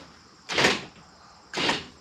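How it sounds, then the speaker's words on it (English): Power door lock actuators on a 1994 Ford F-150 XLT pickup clunk twice, about a second apart, close and fairly loud with no talk over them. "The locks are working."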